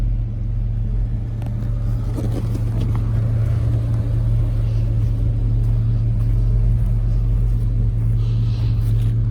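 Two Chevrolet 250 4.1-liter inline-six engines run together, giving a loud, steady low rumble with a constant hum and slight swells in intensity, close by and uninterrupted for several seconds.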